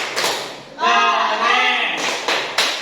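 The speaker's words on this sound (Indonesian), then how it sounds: "Tepuk jempol. Jempol kanan, jempol kiri, 2 jempol." A classroom group does a rhythmic thumb-clap cheer, a few sharp taps and claps at the start and end around a sustained chanted voice in the middle.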